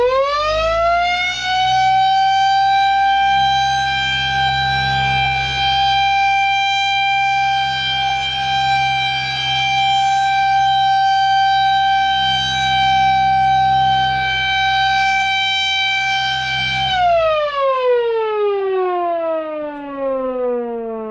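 A Mini 2001-130 siren sounds a loud, steady short alert tone that holds for about seventeen seconds, then drops into a long, gliding wind-down, heard alone and close.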